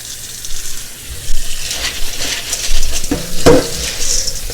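Dried black beans rinsed under running water in a pot before canning, a steady wash of water with sloshing, stirring and occasional clinks against the pot.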